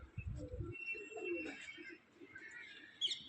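Pigeons cooing outdoors during summer pigeon flying, low soft coos near the start followed by faint chirps and distant outdoor background noise.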